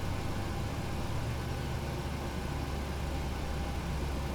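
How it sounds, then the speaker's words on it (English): Engine number 1 of a PMDG 737 spools up during start in a flight simulator, a steady broadband roar and hum with a low rumble, constant in level and without speech. "Let's start engine number 1."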